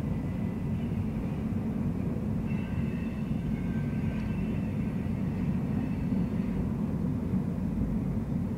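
A long garbage train of covered trailers rolling past the Elliott Bay harbor: a steady, low rumble with rhythmic rail clatter and faint squeals, distant and continuous throughout.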